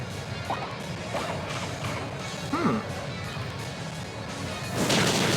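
Sludge Bomb attack effect in a Pokémon battle: a low, muffled sequence of splats and impacts with a few squelchy warbles, ending in a louder rushing crash, all under steady background music.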